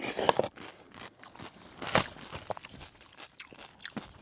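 Crunchy, under-rehydrated dehydrated camping food is chewed close up in a series of irregular soft crunches and bites, fairly quiet with no talking.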